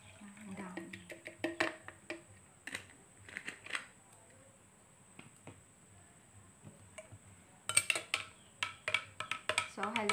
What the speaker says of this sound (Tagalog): So haluin natin guys